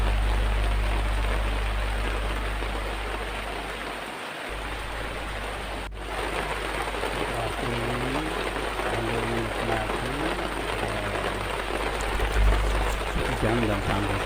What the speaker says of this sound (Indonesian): Cukup deras juga nih hujannya.